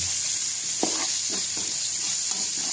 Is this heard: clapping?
no